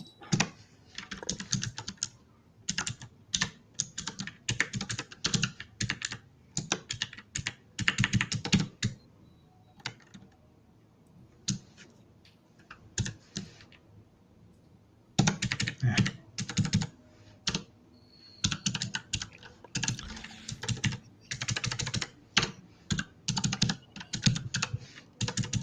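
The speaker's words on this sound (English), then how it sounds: "Your key sounds are loud." Loud, close computer keyboard typing in rapid bursts of clacking keys with short pauses between runs.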